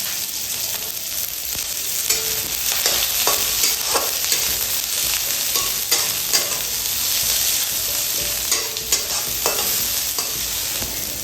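Cumin seeds and onion hit hot mustard oil in a pan for egg fried rice, a loud continuous sizzle broken by frequent scraping stirs and light clicks, near and steady, with nobody speaking.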